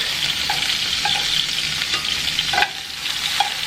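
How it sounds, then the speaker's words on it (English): Pork browns in a pan with a bright, close sizzle and a few light stirring clicks and scrapes spaced about half a second apart, without any speech. "And then we're just going to brown the pork"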